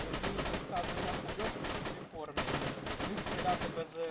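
Rapid bursts of muffled, suppressed gunfire in DayZ, dense and continuous, with a voice speaking briefly over the shots.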